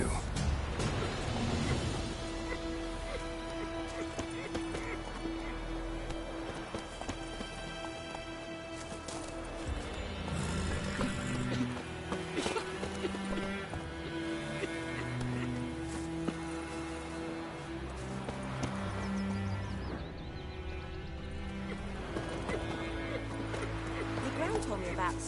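Horse hooves clip-clop in a gallop in Witcher 3, rhythmic and steady for a long stretch, with a whinny and in-game music, while character voices talk over the hoofbeats.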